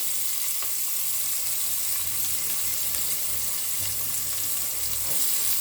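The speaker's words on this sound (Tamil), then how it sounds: "பட்டைக்கிராம் போட்டுக்கலாம் வெங்காயம் போட்டுக்கலாம்" Onions sizzle steadily in hot oil in a pan while chicken biryani is being made, a continuous close frying hiss throughout with no talking.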